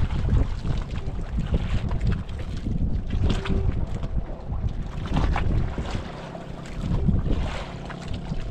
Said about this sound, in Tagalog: Lakas ng mga alon.